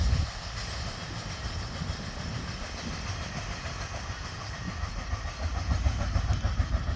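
CSR 70110 diesel locomotive hauling train 518 between Nong Khon Kwang and Hin Lap in Thailand, a steady continuous rumble of engine and rolling wagons throughout, swelling slightly louder near the end, with no talk.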